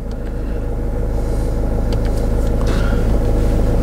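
A used Land Rover Freelander with push-button start and about 89,786 miles runs at a steady idle, a loud, close, even engine rumble throughout.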